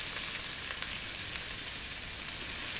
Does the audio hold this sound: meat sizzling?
yes